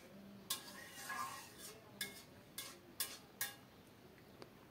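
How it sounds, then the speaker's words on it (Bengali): A spoon clinks and scrapes against a pot while cooked mixed-vegetable dal with roasted cumin powder is stirred, several sharp taps spaced about a second apart over a faint background hiss. "নেড়ে চেড়ে মিশিয়ে ঢাকা দিয়ে কিছুক্ষণ পরে নামাবো"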